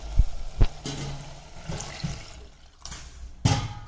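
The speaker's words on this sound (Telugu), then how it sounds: "దీంట్లో ఇప్పుడు వాటర్ వేసుకోవాలి." Water is poured into a pan of bottle gourd mutton curry in a few short splashing bursts with gurgling between them, close and fairly loud, with no speech.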